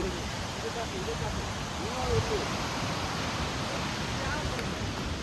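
The Jhari waterfall in a forest near Chikmagalur sends flowing water into a steady, even rush of broadband noise that stays constant throughout, with faint voices briefly audible under it.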